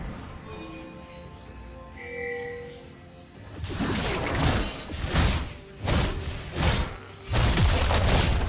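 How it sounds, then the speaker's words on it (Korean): A turret crumbles in League of Legends: heavy crashing booms and shattering bursts erupt in several loud waves after a quieter stretch of game ambience and tones. "빨간 팀의 포탑이 파괴되었습니다."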